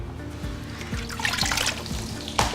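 Water trickles and drips off a sandless sandbag as it is lifted out of water, a short, soft run of dribbling and splashing over a low background hum.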